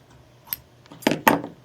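Scissors cut quilting fabric along a cutter edge in a few short, crisp snips close by, with faint handling noise between them.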